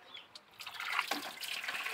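Tap water gushes in under mains pressure without a motor, a steady, hissing, close-up flow that swells after the first half second.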